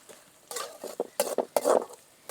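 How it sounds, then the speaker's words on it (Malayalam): Onions are stirred and sautéed in a pan, heard as close, busy bursts of spatula scraping and clatter over a faint sizzle. "ഇനി നമുക്ക് നന്നായിട്ട് ഇളക്കി നമുക്ക് ഈ ഉള്ളിനെ നന്നായിട്ടൊന്ന് വാട്ടിയെടുക്കാം"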